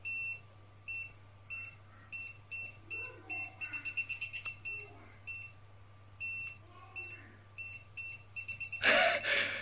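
Rapid electronic beeping in bursts from a PeakTech non-contact voltage detector on high sensitivity near a transformer, speeding up into quick chirping runs, over a steady low hum; muffled voice faintly in the background.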